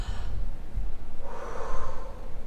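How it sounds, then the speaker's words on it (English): A single deep breath, a close audible inhale followed by a slower, breathy exhale, alone without speech. "take a deep breath with me"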